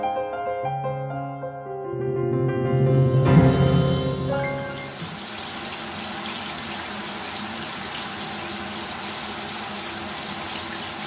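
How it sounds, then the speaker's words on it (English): Shower water running in a stealth camp on a big concrete pump truck, starting after a brief musical tone and becoming a steady, close, broadband hiss of spraying water that continues alone. "Nice refreshing shower."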